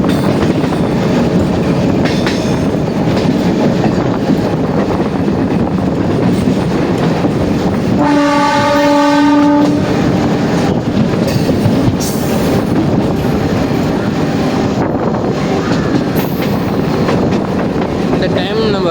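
A Trichy to Villupuram MEMU passenger train runs on Indian Railways with loud, continuous wheel rumble and clatter plus wind buffeting, and a drawn-out horn sounds midway. A voice is faintly present.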